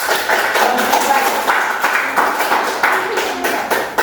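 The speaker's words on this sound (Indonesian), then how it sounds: "silakan dapat memberi aplaus kepada mereka" A classroom group of students claps for their classmates after a discussion, a close, fairly loud burst of applause with uneven, rippling hand claps filling the few seconds.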